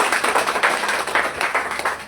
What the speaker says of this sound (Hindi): तो हम चाहते हैं आईएमसी के लिए जोरदार ताली बजाइए।